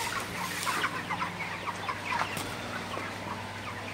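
Broiler chickens on a poultry farm cluck steadily in a dense, overlapping chorus, with a low constant hum running underneath and no talking.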